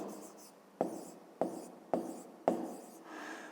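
A pen scratches out an answer on paper in about four short strokes, each starting with a crisp attack and fading, close and quiet with no talk.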